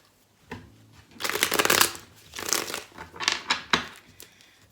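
Tarot cards shuffled by hand in several quick bursts, crisp riffling flutters with short pauses between, close and loud with no talking.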